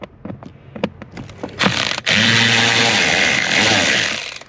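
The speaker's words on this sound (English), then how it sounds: "Now that ratchet's very loud." Rapid clicking of a ratchet wrench loosening T20 screws during a 2016 Dodge Durango blower motor replacement, a series of sharp close clicks followed by a loud continuous grinding, rasping burst.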